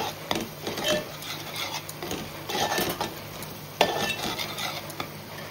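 Turmeric and Agri masala cook in a hot pan for crab curry as a spoon stirs them, giving steady scraping strokes over a soft sizzle, close and continuous.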